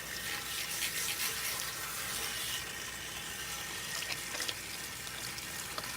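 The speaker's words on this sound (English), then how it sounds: "Then from there, I'm going to rinse off the top part, which is where the alopecia extensions are." Salon sink water running steadily as relaxer is rinsed out of hair, a continuous close hissing spray with small splashes and no pauses.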